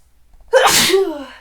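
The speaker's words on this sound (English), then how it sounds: "I had to sneeze there." A single loud, close sneeze with a sharp breathy burst and a brief voiced tail, alone against near silence.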